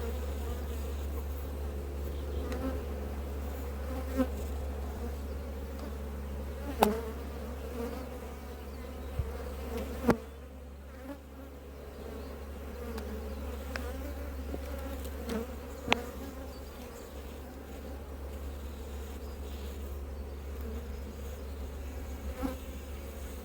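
Honey bees buzz steadily at an open hive in an apiary, a dense close drone with occasional louder passes of individual bees and faint clicks, no voices.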